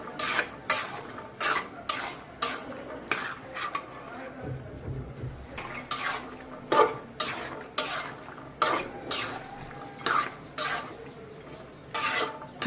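Bean seeds are stirred and sautéed in a pan with a regular scraping rhythm of a spatula against metal over a soft sizzle, close and loud, without speech.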